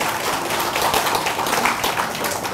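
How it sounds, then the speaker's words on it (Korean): An audience at a Buddhist Sunday dharma talk claps in a steady, even patter of many hands throughout, close and fairly loud, with no clear speech over it. "박수 한번 쳐주세요."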